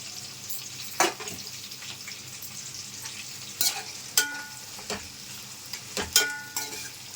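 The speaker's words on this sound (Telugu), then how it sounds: "ఉల్లిపాయ బాగా ఎర్రగా వేగాలండి, అప్పుడే బిర్యానీ మంచి టేస్ట్ వస్తుంది." Two large onions and about ten green chillies frying in oil for mutton biryani, an even sizzle broken by several sharp clanks and scrapes of a stirring spoon, close and without voices.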